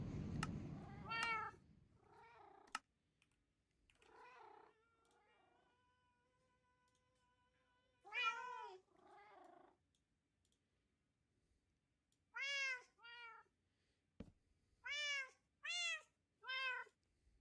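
Several loud, clear Minecraft cat meows come in bursts, some drawn out and some quick in a row, separated by quiet gaps.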